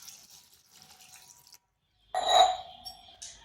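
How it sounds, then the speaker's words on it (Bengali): Water is poured from a vessel onto drumstick flowers in a bowl, a short close splashing pour lasting about a second after a quiet pause, with faint handling sounds before it. "এরপর এখানে দিয়ে দিচ্ছি জল"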